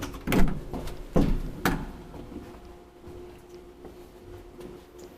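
A door on an old Kone traction elevator, from 1986 and later updated, in a Vantaa apartment building, moving with three sharp clunks early on and then a fading rumble with faint ticks.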